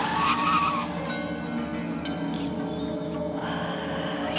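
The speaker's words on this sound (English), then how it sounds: "His car crashed into the tree, causing the car to get mangled up." A car skids and crashes into a tree in an animated horror story, heard as a steady, loud roar of tire squeal and engine noise that holds for about four seconds with a brief high screech near the start.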